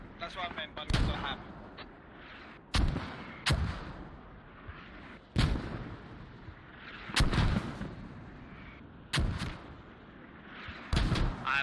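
Mortar rounds land in a match on the Mutaha map, with repeated sharp booming impacts spaced a second or two apart, some near and loud, others softer. A rumbling battlefield din runs between them.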